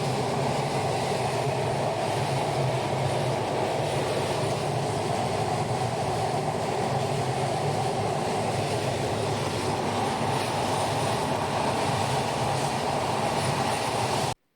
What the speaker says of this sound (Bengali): দেখতে দেখতে আমাদের ট্রেনটা এখন পদ্মা সেতুর নিচে চলে যাচ্ছে।